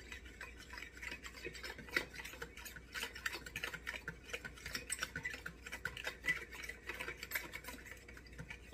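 Sugar and dry active yeast mixture stirred in a bowl for bread dough, a steady run of soft scraping and clinking strokes at close range, with no talking.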